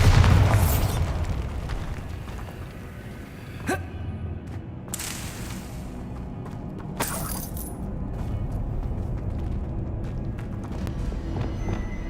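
A Bombarda blast spell in the video game Hogwarts Legacy, heard as sharp explosive bursts with crackling debris at about 4 and 7 seconds over a steady low game rumble, with a louder boom at the very start.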